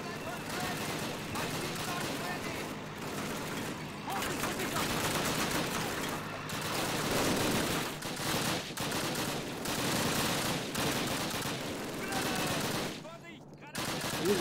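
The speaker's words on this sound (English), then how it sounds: "Ready on the anti-tank rifles!" Call of Duty 1 battle with anti-tank rifles firing at tanks, rendered as dense, continuous gunfire and fusillade that dominates the mix with little pause.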